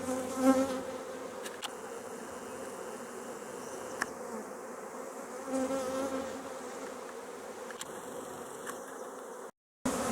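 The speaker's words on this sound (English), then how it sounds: "sure looks like a lot more bees than could come from my colonies" A large swarm of honey bees buzzing steadily at moderate distance, a continuous droning hum with individual bees passing close now and then, ending in a brief cut.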